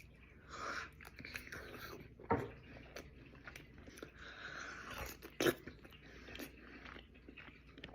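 Someone chews soft, dense gnocchi close up, with quiet moist mastication and a couple of sharper bite sounds standing out against a low background.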